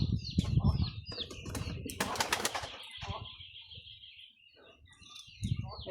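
Homing pigeons in a rural loft flap their wings in repeated bursts, with a loud flurry mid-clip, amid bird calls, cooing and light chirps, fairly close.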